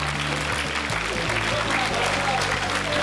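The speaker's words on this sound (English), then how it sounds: "Nice big round of applause" Applause for a student cast of a Shakespeare play fills the space, dense and steady throughout, with low musical tones running underneath.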